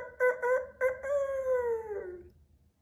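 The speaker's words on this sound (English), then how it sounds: "A rooster says, cock-a-doodle-doo." A rooster crows once, close and loud, opening with a few clipped notes before a long drawn-out call that fades away.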